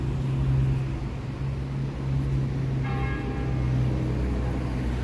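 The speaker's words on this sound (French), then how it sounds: "Je sais pas si vous entendez les cloches." Church bells ring for a wedding at a church, faint and distant tolling under a low steady drone of outdoor background noise, with a brief brighter ring partway through and no one talking.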